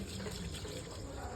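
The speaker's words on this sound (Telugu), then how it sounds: "ఒక్కటే చెట్టుకి ఎంతసేపు పోస్తావు?" Water poured from a tap or container onto a single plant, making a soft, continuous trickling splash at low level.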